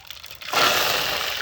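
Mustard seeds, followed by cumin, hit hot oil for a dahi tikhari tempering and break into a sudden, loud, sustained crackle and sizzle close by after a brief quieter moment.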